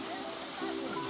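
Cold spring water wells up out of the ground in the Azores and flows steadily. The rushing is a continuous broadband wash with no break, and a faint voice can be picked out beneath it.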